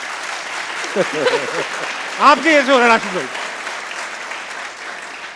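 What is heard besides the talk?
studio audience applause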